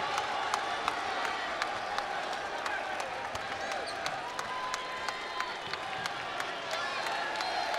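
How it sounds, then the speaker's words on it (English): A basketball arena crowd applauds and cheers after Ball State's win over Central Michigan, a steady, dense wash of clapping and crowd noise with sharp ticks scattered through it, heard from a distance beneath a commentator's voice. "Ball State draws a roaring applause as they beat Central Michigan convincingly, 98-83"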